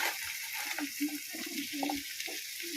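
Water poured into a pot of sautéed squash on the stove, a continuous watery hiss and sizzle with soft bubbling underneath, close and moderately loud, with no talking.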